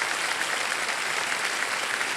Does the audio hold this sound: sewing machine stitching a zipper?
no